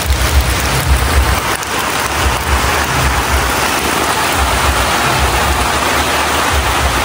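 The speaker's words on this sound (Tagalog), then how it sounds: "Bumuhos na naman po ang ulan." Heavy rain pours down in a dense, steady roar, loud and constant throughout, with no voices.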